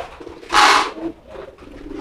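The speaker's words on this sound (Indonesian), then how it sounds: "itu merpatinya di dalam sudah blekur-blekur" Domestic pigeons coo inside a coop, a loud close burst of throaty calls followed by softer repeated coos, with no talk over them.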